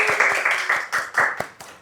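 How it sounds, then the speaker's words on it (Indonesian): An audience in a university faculty setting claps their hands in brisk, steady applause, many hands close by, loud and continuous with sharp individual claps standing out. "Boleh dong tepuk tangannya."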